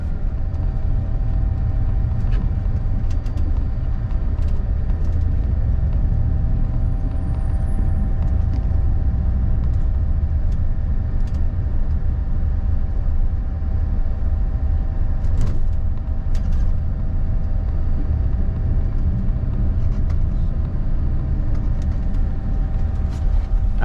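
A FlixBus coach drives along a road in the Scottish Highlands between Inverness and Edinburgh, its engine a steady low rumble with constant road noise throughout, heard from inside the cabin.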